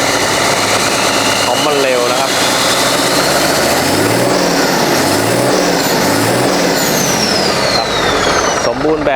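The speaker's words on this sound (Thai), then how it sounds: "เดี๋ยวเร่งให้ชมกันนะครับสำหรับเครื่องยนต์ J08E นะครับ" Hino Mega 500 truck with a J08E 260 PS diesel engine revving, three rising-and-falling throttle blips over a loud rumbling idle, recorded close, with someone talking over it.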